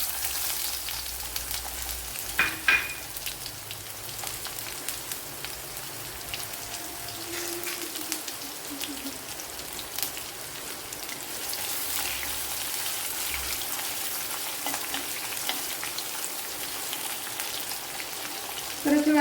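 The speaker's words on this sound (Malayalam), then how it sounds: "ഇവിടെ കടുക് പൊട്ടിയിട്ടുണ്ട്." Mustard seeds pop and splutter in hot oil, alongside crushed garlic and a small piece of ginger, for a Kerala mackerel fish curry: a dense, rain-like crackle with scattered sharp pops, fairly quiet and steady.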